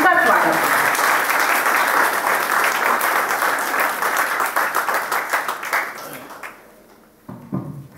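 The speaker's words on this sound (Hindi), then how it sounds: "आप मिल करके एक बार जोरदार तालियों से उनका स्वागत करें" An audience at a World Cancer Day speech claps enthusiastically in a dense, sustained round that gradually thins out and fades to a few scattered claps.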